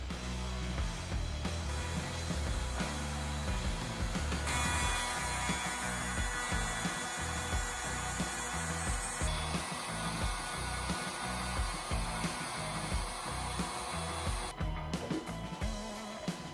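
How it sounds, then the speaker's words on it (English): Maslow CNC machine cutting a wooden sign, a continuous whining router drone with uneven grinding texture as the bit moves through the wood, steady and alone with no talk. "I home in the machine and then I watch it cut."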